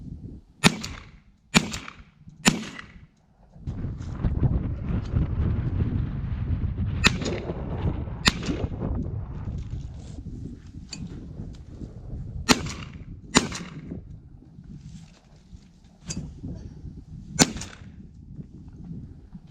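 Sharp shotgun blasts from a CZ 1012 fired outdoors at thrown clay targets, about nine loud, close reports in irregular pairs and singles, with a rumbling wind-like background between shots and no speech.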